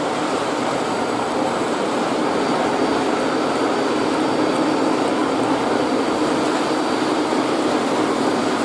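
A Lionel O gauge Brady's Trains custom Conrail SD45 model locomotive runs outdoors at the Railroad Museum of Pennsylvania, giving a loud, steady, unbroken rumble and whir throughout with no voices.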